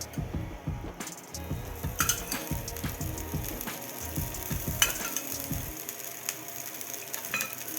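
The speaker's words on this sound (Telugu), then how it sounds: "ఇంకొకసారి మన దోశ వేసుకున్నట్లే ఇప్పుడు కొంచెం ఆయిల్" A rajma (kidney bean) dosa frying in a little oil on a pan, a soft continuous sizzle with clicking and scraping bursts throughout, close and no voices.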